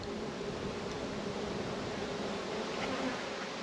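Honey bees buzz steadily and densely across a brood frame lifted from an open hive, a continuous close, even drone with no voices.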